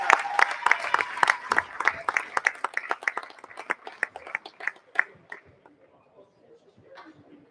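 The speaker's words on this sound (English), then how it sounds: "Folks, let's give these two teams a round of applause." A small crowd at a high school varsity basketball game claps for the two teams, a loose patter of hand claps that starts fairly strong and gradually thins out to scattered, fading claps.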